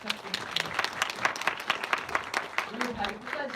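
An audience at a film festival screening applauds the director after a post-screening talk, with a modest patter of individual hand claps in uneven bursts, mixed with nearby voices speaking.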